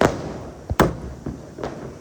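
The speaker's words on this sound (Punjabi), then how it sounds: "ਪਟਾਕਿਆਂ ਦੀ ਆਵਾਜ਼ਾਂ ਸੁਣ ਸੁਣ ਕੇ" Diwali firecrackers burst in the city of Hoshiarpur, with several sharp, loud bangs spaced irregularly over a couple of seconds, each followed by a short ring of noise and no talk.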